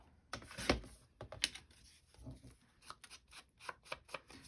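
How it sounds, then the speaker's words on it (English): Scissors snip paper scraps for a collage, a quick series of close, crisp cuts with short rustling pauses between them. "I think I'll cut it"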